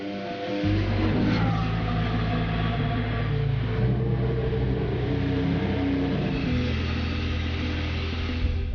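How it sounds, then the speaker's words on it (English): A Toro Rosso STR10 Formula One car in pre-season testing gives a loud, steady engine roar that sweeps up in pitch and then holds a sustained drone throughout. "Carlos gets the first ever ride of the STR10"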